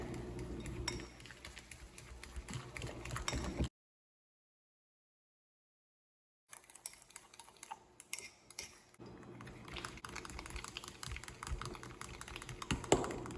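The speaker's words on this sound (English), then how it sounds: "so as you can see, I've been whipping it for a good minute" Egg yolks and sugar are whisked by hand in a bowl for eggnog, making quick, light clicking and tapping. The sound is faint and close, with a brief silent gap partway through.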